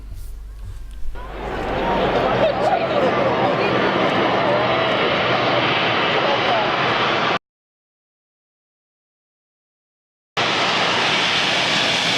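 A light aircraft drones steadily in flight en route to Wollongong Airport, loud and close from the cabin with a continuous broadband engine roar that cuts out abruptly for several seconds and then returns.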